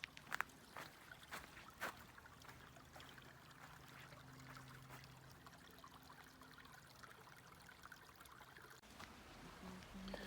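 Faint water trickles softly and steadily through a creek bed in a forest after recent rain, with occasional small splashes and a low background hum.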